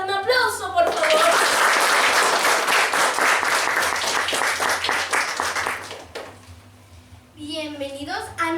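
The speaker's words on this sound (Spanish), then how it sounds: "Lautaro, un aplauso, por favor." An audience breaks into loud, dense applause welcoming a guest on a history interview program, lasting several seconds before tapering off, with a voice speaking briefly before and after.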